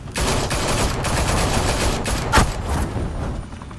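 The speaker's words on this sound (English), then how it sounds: "Open fire!" Dense volleys of gunfire from the Batman: The Telltale Series game crackle continuously, with overlapping shots and a sharp bang near the middle, loud and without talking.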